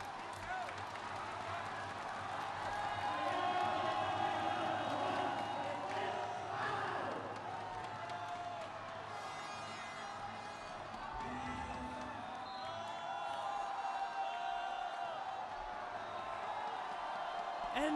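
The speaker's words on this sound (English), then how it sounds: "And that's 5 fouls on Avery Scherer, much to the crowd's delight." A basketball arena crowd in an ABL game between Saigon Heat and Westports Malaysia Dragons roars and cheers steadily, with whoops rising above the broad murmur of a large indoor audience.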